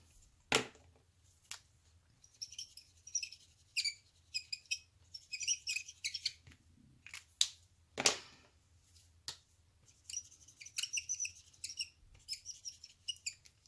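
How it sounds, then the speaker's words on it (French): Close, scratchy squeaks of pens dragging across paper in short, irregular strokes, with a few sharp taps between them. "On entend bien le crissement des stylos"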